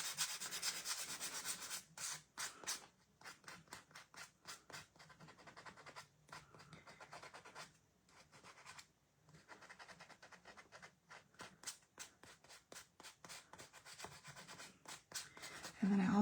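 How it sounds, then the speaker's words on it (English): A small finger sander lightly sands a wooden cardinal votive holder to give it a rustic look, a steady buzzing rasp broken into many short strokes with brief pauses, close and fairly loud with no talking. "I do think I'm going to sand this lightly with my little finger sander"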